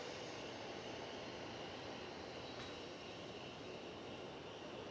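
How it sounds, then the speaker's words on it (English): A Boeing 757 on the runway at DFW airport at night gives off a steady, faint, distant roar that stays even throughout, with no voices. "But we'll shift focus now for another 757 on runway DFW."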